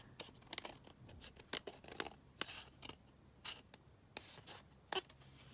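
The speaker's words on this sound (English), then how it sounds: "I'm just going to trim down this edge because it's just overhanging slightly" Scissors trimming an overhanging paper edge on a junk journal page, with a series of quick crisp snips and light paper rustles heard close up in a quiet room.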